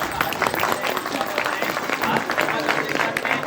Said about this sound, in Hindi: एक बार जोरदार तालियों से आप